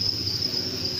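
Crickets kept and fed in the morning chirp in a continuous high, steady trill, close and unbroken.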